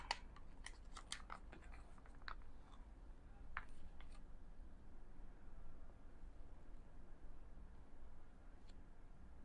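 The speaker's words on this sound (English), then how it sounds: "I'm using scissors because there's no like little pull tab or anything." Several quick crisp snips from scissors cutting into a face mask packet, clustered at the start, then quiet rustling in a hushed room.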